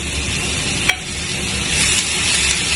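Onions cooking in a pan for galouti kebab, a steady soft sizzle and frying hiss with one sharp clink of a utensil early on, no voices.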